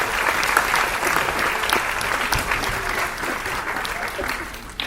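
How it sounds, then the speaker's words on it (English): Dense audience applause at a gala concert, a sustained wash of many hands clapping together at steady loudness, with faint crowd voices mixed underneath and a slight fade near the end. "And give Keith a round of applause."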